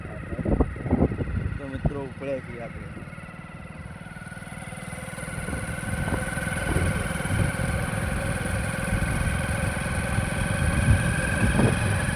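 A motorcycle engine runs steadily, a constant mid-pitched drone that grows slightly as the bike sets off along a rural road to fetch urea fertilizer, with someone talking over it early on.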